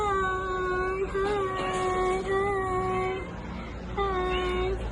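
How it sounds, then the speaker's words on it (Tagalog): A stray cat meows repeatedly on a street in Casablanca, drawn-out and whiny calls close by, a long cry followed by a second after a short pause, with faint background noise. "Ang cute naman ng pusa na to."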